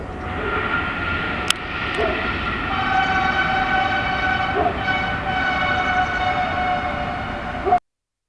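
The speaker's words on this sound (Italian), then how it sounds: "il primo treno in assoluto che filmai fece una lunghissima e stupenda strombazzata lungo tutto quel tratto di linea" A loud, sustained train horn blares almost continuously as a train rumbles past nearby, ending abruptly.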